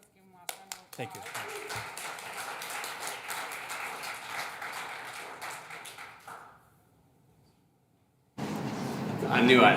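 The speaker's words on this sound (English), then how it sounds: "Let's give them last round of applause." Round of applause from a leadership development cohort audience, a burst of clapping lasting several seconds before fading to near silence, then a louder noisy stretch at the end; a voice speaks near the start.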